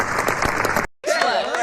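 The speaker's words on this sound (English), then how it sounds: "The clapping woke him up." An audience claps at a public event in a short, dense, close burst that cuts off abruptly and gives way to a tonal voice or music.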